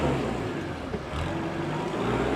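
A 2009 New Holland T4050F tractor engine runs in gear with a steady, close diesel drone and rumble, holding an even level without sharp revving.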